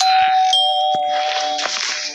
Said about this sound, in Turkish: Kapıyı çalıyorlar.